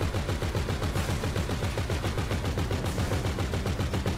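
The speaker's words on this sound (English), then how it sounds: "Someone's firing flares?" Gunfire in the GTA 5 Online video game, a loud, continuous stream of rapid shots like sustained machine-gun fire, with no talking.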